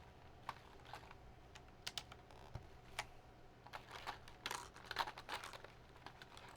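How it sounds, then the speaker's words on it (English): Plastic keycaps being pushed down onto a PC keyboard already screwed into its top case, giving a series of faint, irregular clicks and taps that cluster more densely toward the end, with no talking. "am I fucking up the threads by pushing really hard down on these keycaps while it's screwed into the top?"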